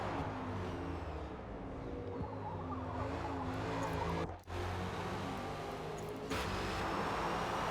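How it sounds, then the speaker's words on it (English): Race cars in a Bathurst racing game rush past with a loud continuous engine roar, and a high tire squeal runs through the noise. The sound drops out briefly for an instant, then the same dense car noise carries on. "You can audibly hear tires squealing."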